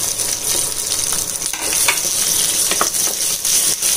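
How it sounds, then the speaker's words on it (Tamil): Shallots, green chilies, ginger and garlic sauté in a hot pan for a roadside-style salna, giving a steady loud sizzle with a few stirring scrapes, no voices. "ஒரு 20 சின்ன வெங்காயம், இது எல்லாத்தையும் சேர்த்துட்டு நல்லா வதக்கி எடுத்துக்கலாம்."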